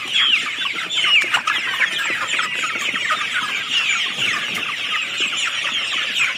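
A flock of chickens clucks steadily and densely while pecking at fermented maize feed, many overlapping calls close by and with no pauses.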